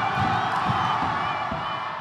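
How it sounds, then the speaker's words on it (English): A packed gym crowd at an eighth-grade boys basketball championship roars at full volume during tense late free throws, a loud unbroken wall of cheering and shouts. "This crowd will be at its maximum decibel volume"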